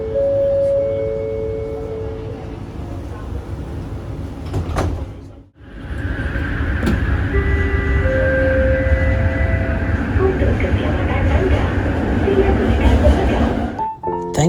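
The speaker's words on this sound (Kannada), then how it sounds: "ನಾವು ಟ್ರೈನ್ ಬರ್ತಿದೆ" A metro train arrives and runs along the line toward KLCC in Kuala Lumpur, with a steady rumble, doors sliding partway through and people talking in the background.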